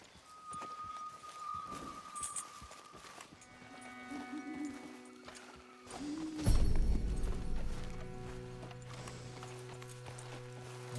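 An Andalusian horse in Red Dead Redemption 2 clip-clops in a quick, regular hoof rhythm that grows louder midway, under sustained tonal game music.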